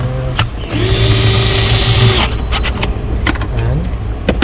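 A power tool drives an 8mm bolt tight while an electric frunk is fitted to a Tesla Model S, giving a loud, steady whir of about two seconds followed by a few short bursts.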